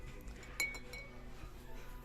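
A glass bottle gives one sharp, bright clink near the start, followed by faint handling noises against a low background hum.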